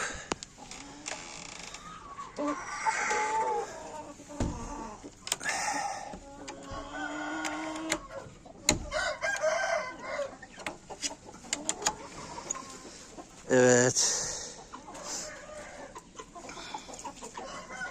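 Hens cluck and squawk close by in short, scattered bursts, with rustling and a brief loud cackle near the end.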